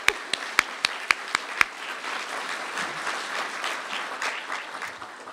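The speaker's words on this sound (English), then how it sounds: "So I think that deserves a round of applause." At a NYC Parks awards ceremony, a few sharp, evenly spaced individual claps ring out first, then a whole crowd joins in a steady, moderately loud round of applause that holds to the end.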